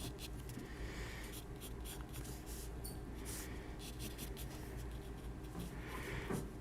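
A pencil drawing a chin on paper, a steady close scratching that runs without a break under a faint background hiss.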